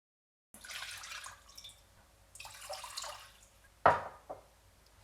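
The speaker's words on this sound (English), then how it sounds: "First, let's add our mirin and sake into our small pot." Mirin and sake poured into a small pot, a close splashing trickle that starts, pauses, resumes, then ends with a sharp knock or clink, no speech.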